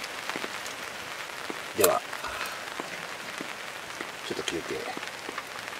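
Rain patters steadily on a tent at a mountain campsite on a summer evening, a dense even hiss with scattered drops, while someone speaks briefly in Japanese.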